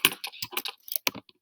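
A quick burst of close, crisp taps on a calculator keypad as numbers are entered, a dozen or so light clicks in uneven rapid succession, then stopping.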